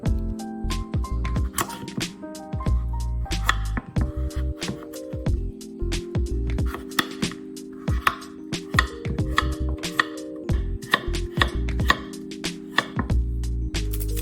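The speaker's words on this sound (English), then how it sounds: "cut the kabocha into smaller slices" A knife slicing peeled kabocha pumpkin into smaller pieces on a board, a run of quick, crisp chopping taps over a low steady hum, with no voices.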